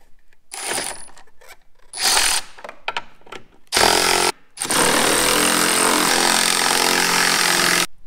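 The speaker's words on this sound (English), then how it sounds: "we're just going to take our electric ratchet here" An electric ratchet spins out the 10mm bolts holding a factory headlight, first in short whirring bursts, then one long, loud, steady buzz, close by with brief pauses between runs.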